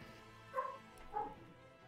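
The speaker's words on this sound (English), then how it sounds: "I hear a doggy." A dog barks twice from upstairs in a house. The two yips are muffled and faint, about half a second apart, over a quiet room hum.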